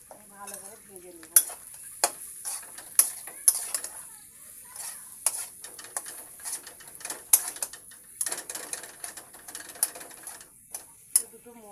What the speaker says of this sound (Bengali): আর এই যে হলুদ, লঙ্কা আর এই জিরা দিয়ে দিলাম, দিয়ে আলুটাকে আমি ভালো করে ভেজে নেব।